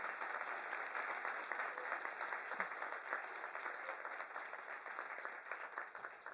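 An audience gives a guest lecturer a continuous round of applause, steady and fairly faint throughout with no voices over it.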